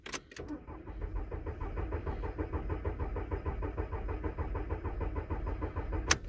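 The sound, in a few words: three-cylinder car engine cranking during compression test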